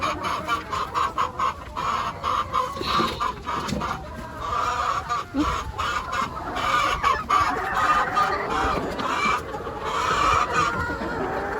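Several chickens cluck and chatter nearby in an uneven stream, with occasional louder squawks, over steady background noise and no voices.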